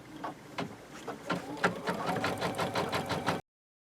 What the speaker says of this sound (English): I'm going to go ahead and hit the start button. And it's going to sew out our placement stitch for us.